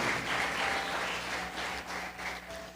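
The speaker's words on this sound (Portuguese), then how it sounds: "Dê um glória a Deus e uma salva de palmas a Ele aí bem forte" A church congregation applauds during a sermon, a steady wash of clapping from many hands that stays fairly quiet and distant throughout, with no distinct voices over it.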